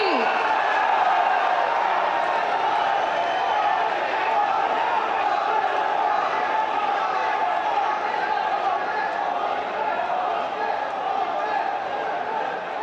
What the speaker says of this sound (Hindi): जोरदार करताली एवं हुलहुली दे स्वागत करिबा माननीय प्रधानमंत्री श्री नरेंद्र मोदी जी